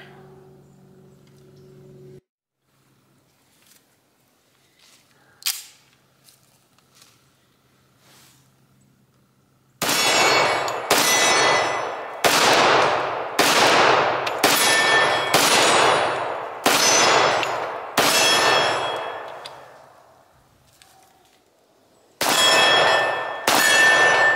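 Kimber 1911 .45 ACP pistol shots ring off steel targets at 60 and 80 meters outdoors, a string of sharp loud cracks each followed by a metallic ping and decaying ring, in irregular succession after a quiet start.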